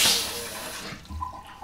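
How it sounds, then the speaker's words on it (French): A faucet on an under-sink water filter system is turned on, water hissing out strongly at first, then settling into a quieter flow with faint clunks. "J'ouvre le robinet au-dessus."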